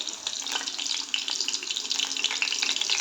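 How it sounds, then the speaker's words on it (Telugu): Bitter gourd pieces fry in hot oil, a dense, bright crackling sizzle that stays close and steady with small popping bursts throughout. "ఇప్పుడు కొంచెం ఆయిల్ మరిగాక 1 by 1 వేసేసుకోవాలి."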